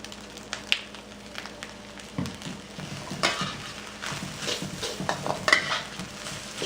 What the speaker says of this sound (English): I'm cooking all of this on a high heat. And I stir for about a minute.